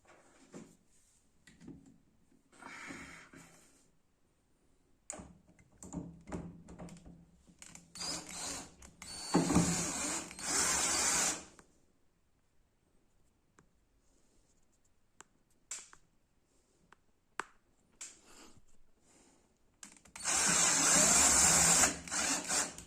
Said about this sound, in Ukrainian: Тепер беремо нашу петлю верхню, приставляємо і закручуємо.